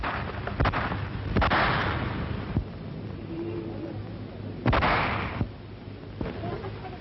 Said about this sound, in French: Et soudain claquent les premiers coups de feu.